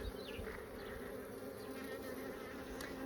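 Honeybees buzzing inside a new beehive during an inspection, a dense, continuous hum from many bees close up, steady throughout with no voices.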